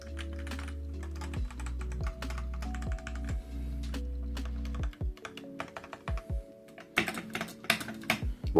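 Fingers type on a work computer keyboard at a desk, a steady run of close, crisp key clicks with a few heavier strokes near the end and no talking.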